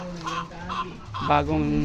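Chickens on a small poultry farm clucking in short, close, repeated calls, with someone speaking over them.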